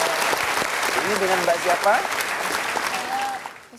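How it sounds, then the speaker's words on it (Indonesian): Studio audience claps steadily at a motivational seminar as two participants are called to the front, a dense wash of applause fading toward the end while a host speaks over it. "Boleh kasih tepuk tangannya."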